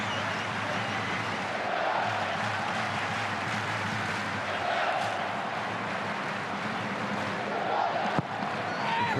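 Steady roar of a football crowd at a Wellington Phoenix match against Brisbane, a broad continuous wash of massed voices holding level for the whole stretch, with a brief sharp knock near the end.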